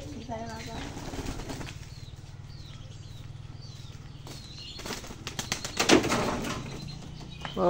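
Pigeons flap their wings in quick bursts near and far, with soft cooing and a person talking at times.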